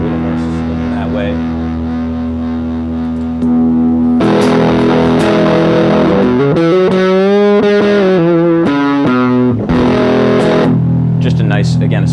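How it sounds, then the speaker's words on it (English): Electric guitar played through a Maestro fuzz pedal on its modern setting, giving sustained distorted chords and bending lead notes at steady loudness, alone with no voice. "So you get that classic sound, but then you also can put your new spin on it with the modern setting on here."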